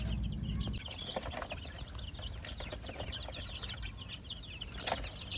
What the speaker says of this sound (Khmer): កូនមាន់បន្ទាប់ពីធ្វើវ៉ាក់សាំងឲ្យបានមួយថ្ងៃឃើញថាសុខភាពវាអត់អីធម្មតាសុខភាពវាល្អធម្មតា